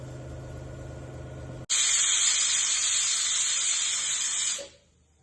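A pressure cooker whistle, cooking moong dal khichdi, suddenly blasts a loud, shrill hiss of escaping steam for about three seconds, then fades off; a low kitchen hum comes before it.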